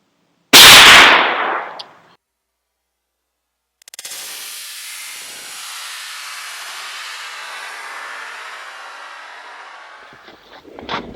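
A single sharp, loud rifle shot from a Ruger American Ranch in 300 Blackout rings out outdoors and quickly decays. A long low hiss of wind or handling noise follows.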